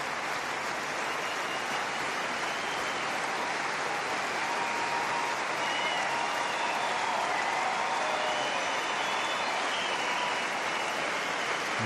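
Tennis crowd in Basel at a final applauding, a dense steady wash of clapping filling the whole stretch without a break.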